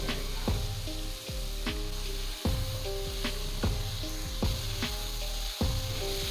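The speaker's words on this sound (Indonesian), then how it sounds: "Kita tumis hingga menyusut airnya dan matang." Food stir-fried in a pan until its added water cooks down, a steady hissing sizzle broken by regular, rhythmic spatula scrapes and clacks roughly every second, close and loud.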